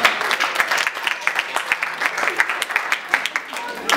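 A church congregation applauding for Jesus during a worship service, scattered sharp hand claps in an uneven rhythm with a preacher's voice speaking over them.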